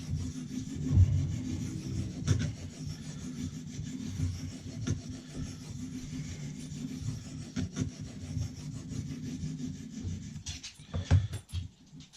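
A knife is drawn across a Lansky 600 grit sharpening stone in steady, soft rasping strokes. Each stroke is quiet and close, and the sound continues alone.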